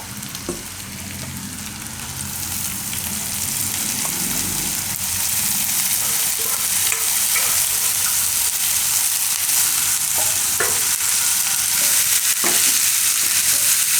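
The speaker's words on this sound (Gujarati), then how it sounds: "તો હવે આમાં આપણે નાખી દઈશું મેથી." Fenugreek leaves tipped into a pan of boiled corn kernels tempered with asafoetida for a Gujarati methi makkai shaak, setting off a loud, continuous crackling sizzle close by with faint scraping, no voices.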